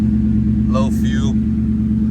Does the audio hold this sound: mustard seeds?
no